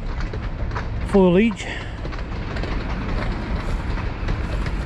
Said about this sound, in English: Wow, that train is packed.